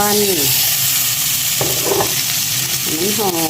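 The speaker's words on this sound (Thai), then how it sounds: "ตั้งหม้อใส่น้ำมันหน่อยหนึ่งนะคะ ทุกคนเราก็จะเอาหมูลงไป" Pork sizzles and fries loudly in a pot of oil, a steady close crackle with stirring scrapes, while someone speaks briefly over it.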